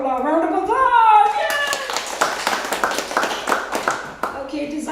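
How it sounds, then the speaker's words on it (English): Scattered clapping from a small audience at a show, beginning after voices and a cheer, with individual claps audible under ongoing talk and children's voices. "Give Paula a round of applause."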